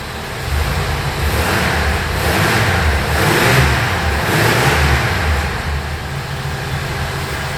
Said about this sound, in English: Let's give it a bit of a rev.